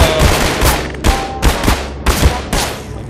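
Loud, close gunfire aimed at the player in Half-Life 2, arriving as a series of sharp, heavy bursts roughly every half second with noisy rumble between them.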